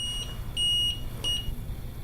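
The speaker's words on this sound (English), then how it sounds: "When it's out of level, it beeps." A Firecore green self-leveling laser level beeps when out of level, giving two short, high, close electronic tones with no talking.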